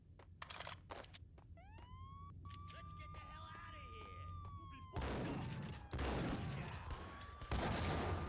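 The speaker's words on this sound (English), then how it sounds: "The radius on those grenades is ridiculous." Grenades explode in the video game Max Payne as a couple of loud, booming blasts that hit after a stretch of wailing, siren-like tones. A voice talks throughout.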